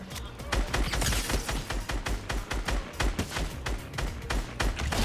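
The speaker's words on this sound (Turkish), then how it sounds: "Bir tane daha birisi var orada silah sesi geliyor." Rapid bursts of gunfire in Fortnite, dense and loud, with repeated sharp shots and thumps layered over a busy game soundscape.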